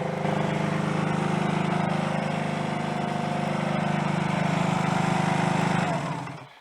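A Honda CD175 motorcycle engine runs steadily at a close, loud idle with a constant low drone for about six seconds, then cuts off and falls silent at the end.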